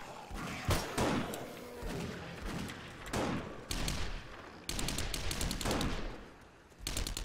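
Bursts of automatic gunfire aimed at zombies in 7 Days To Die, loud rapid rattling volleys broken by short pauses and thuds, with no clear voices over the shooting.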